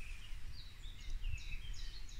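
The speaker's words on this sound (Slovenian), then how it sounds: "vse te ptice v ozadju." Birds sing outdoors in light rain, faint thin chirps and warbling phrases drifting over a soft, low background hiss, distant and quiet.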